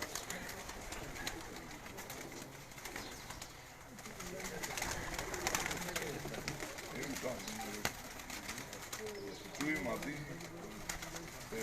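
Pigeons coo softly among a group of kept birds, low repeated calls layered over a busy outdoor background, with people's voices faintly present.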